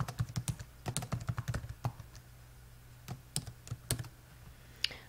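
Keys clatter on a computer keyboard while a web page title is entered, in quick bursts of close, crisp clicks separated by short pauses, with no voices.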